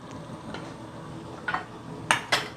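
Chicken being stirred in a large kadai pan with capsicum and celery, a few scraping clinks of a metal spoon against the pan, the last two louder and sharper, over a low steady background hiss.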